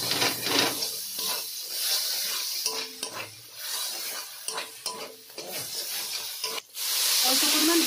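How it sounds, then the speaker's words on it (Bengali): Snakehead fish frying with chilli and turmeric powder in a pan, with a steady hiss and sizzle and repeated spatula scrapes and clinks, ending in a louder burst of sizzling. "এর সব মশলার সঙ্গে ভালোভাবে কষিয়ে নেব।"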